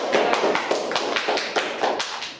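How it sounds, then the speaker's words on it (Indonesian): A class claps hands in applause, producing a rapid, even run of close, crisp claps that holds steady for a couple of seconds. "kasih tepuk tangan untuk kita"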